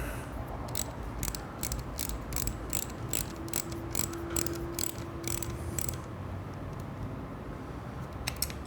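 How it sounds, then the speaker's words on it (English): A wrench ratchets repeatedly while tightening a retro turn signal mount on a Ducati Scrambler, a quick run of crisp clicks over a low background hum, pausing briefly near the end. "So now we can put our wrench on there."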